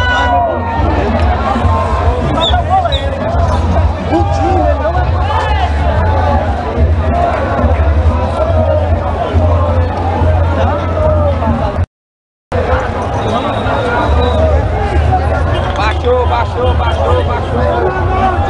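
A large crowd of football fans fills a stadium at a Fortaleza versus Icasa Campeonato Cearense 2014 semifinal, a loud continuous roar of chatter and cheering with a deep low rumble, broken by a brief cut of silence midway.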